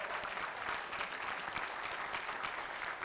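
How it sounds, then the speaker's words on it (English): A breakfast audience claps for Josiah in a dense, steady round of applause that fills the short moment, fairly close and loud, with no talk over it. "I want to give Josiah a round of applause as well"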